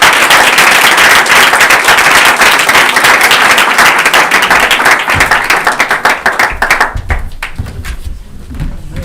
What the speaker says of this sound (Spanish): Un aplauso para Eva.